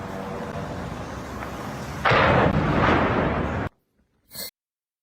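Explosion from a Ukrainian drone strike on Wildberries warehouses in Russia, a loud broadband boom lasting over a second above a steady rumbling background, followed by an abrupt cutoff and a short final burst.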